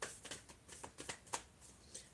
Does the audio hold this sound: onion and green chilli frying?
no